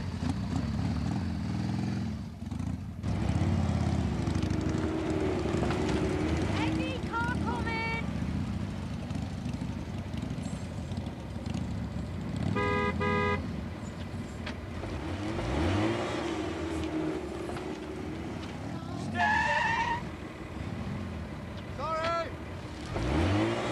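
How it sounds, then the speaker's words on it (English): Motorcycles practicing for a Harley Davidson festival competition, heard as a continuous engine drone with repeated revving surges that rise and fall, fairly close, under people talking throughout. "Practicing for a motorcycle event."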